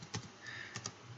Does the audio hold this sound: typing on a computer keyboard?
yes